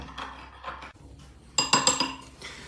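A spoon stirring gelatin with warm water in a bowl, light clinks and scraping against the dish in a few quick taps, close and quiet.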